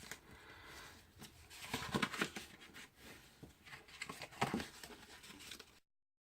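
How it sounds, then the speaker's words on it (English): Paper box being folded and its score lines burnished by hand, giving soft crinkling, rubbing and brushing sounds in two busier bursts, close and fairly quiet, with no talking. "now we are going to fold and burnish all our score lines"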